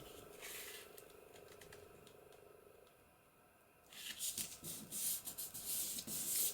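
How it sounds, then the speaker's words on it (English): Paper being burnished down onto a handmade journal folio: soft rubbing strokes near the mic, then a louder burst of irregular scraping and rustling toward the end, with no voices. "And burnish that down."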